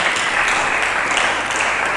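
A church congregation claps together, a dense, loud, continuous wash of applause that fills the whole short stretch without any talking.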